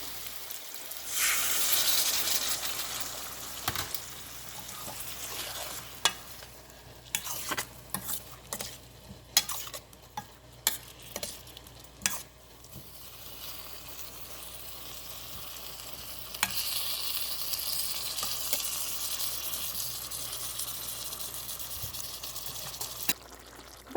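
Coconut milk poured into a simmering masala curry for a pumpkin dish, giving a steady broad sizzle and bubbling with bursts of stirring and clinks near the middle, then a hissing simmer toward the end.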